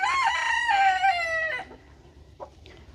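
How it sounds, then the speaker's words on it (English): Rooster Clyde crows loudly and close by, one long strained cock-a-doodle-doo lasting about a second and a half, then a few soft clucks from his hens in a quiet winter coop. "so Clyde here, you ready to go back with your hens?"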